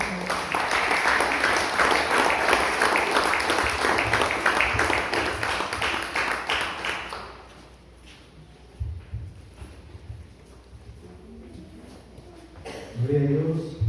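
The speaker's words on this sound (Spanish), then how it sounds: "Denle un fuerte aplauso mientras el pastor pasa." A church congregation gives loud, steady applause as the pastor comes up, and it fades out about halfway through. A quieter room follows, with scattered shuffling, and a voice begins speaking near the end.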